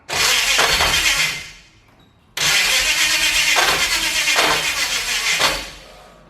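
A Holden HT with a swapped-in V8 cranks and fires into a loud, raw roar close by, dies away after about two seconds, then catches again and keeps running hard with surging revs.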